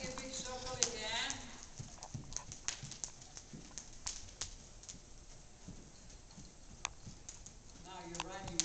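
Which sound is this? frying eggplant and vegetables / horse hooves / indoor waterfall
horse hooves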